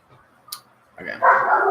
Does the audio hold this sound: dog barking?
yes